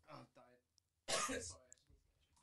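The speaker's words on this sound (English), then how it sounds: "coughing in the back" A person in the background of a podcast recording clears their throat and coughs, two short rough bursts separated by a brief pause, with a quieter sound before.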